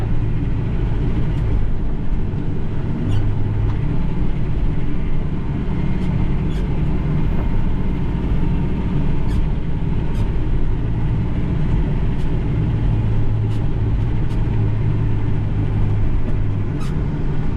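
A Hydrema haul truck driving over gravel to pack it down, with a heavy, constant engine rumble and rolling drone that stays loud and close throughout, with no talking.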